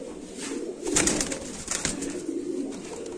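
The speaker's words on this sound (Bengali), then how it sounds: "তো ডাকটা দেখা দিব আমরা ইনশাল্লাহ" Pigeons kept for sale coo in a low, continuous murmur close by, swelling in a couple of louder bursts with brief rustling, with no talking.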